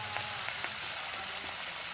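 Fish frying in a pan gives off a steady, close sizzle with faint crackles and pops, with nobody talking.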